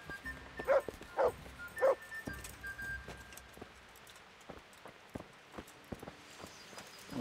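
In Kingdom Come: Deliverance, a dog gives three sharp barks in close succession, then falls quiet under faint footsteps and low ambient sounds.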